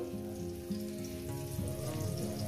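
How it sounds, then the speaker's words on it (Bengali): Chopped green chillies and onion fry in hot oil with a soft, steady sizzle throughout, faint and close, and no voices. "এই কাঁচা লঙ্কা পেঁয়াজ কুচোটাকে আমি মিনিমাম বলবো না, এটা লাল লাল করে ভেজে নেব"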